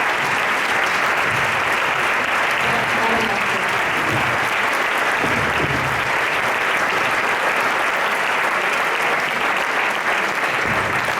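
A crowd applauds steadily and loudly throughout, a dense continuous wash of clapping that never lets up.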